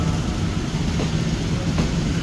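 A passenger train runs straight through a busy Jakarta station on track 3, coming from the west, giving a loud, steady broadband rumble and rattle that holds for the whole stretch without pause.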